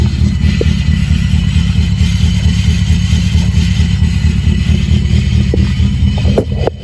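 A 2000 Chevrolet Silverado truck engine runs loud and steady at close range as it is shifted into reverse, with a constant low rumble and a faint clunk near the end.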